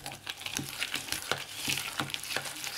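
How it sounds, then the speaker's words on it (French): Raisins being stirred into pastry cream for Neapolitan-style turnovers, giving soft repeated wet scraping and sticky squelching strokes of a spoon in a bowl, close and steady with no talking. "On mélange."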